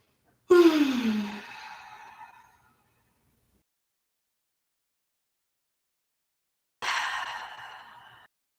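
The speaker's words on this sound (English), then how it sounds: "Take deep breaths." Deep breathing during a yoga session: a long audible exhale with a soft falling sigh, then a pause of silence and a second shorter breath, close and clear with no talk.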